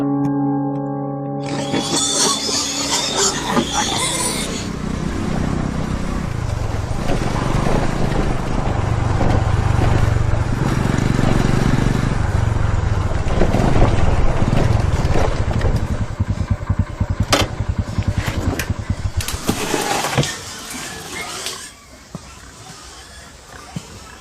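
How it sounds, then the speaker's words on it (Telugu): A motorcycle engine with a starting problem, from a Telugu film scene, drones loudly and steadily for about twenty seconds with wind buffeting, then drops off, while voices speak over it. "bike starting problem"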